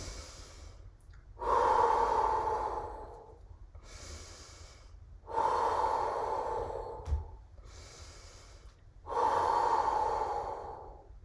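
Three slow, deep breathing-exercise breaths drawn audibly through the nose, each a long close airy rush separated by quiet pauses, with no speech.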